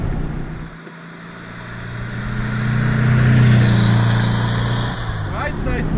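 A 1956 Porsche 356A Coupe engine drones under acceleration, dipping briefly before climbing into a rising, steady hum that holds and then tapers, with a voice speaking over it.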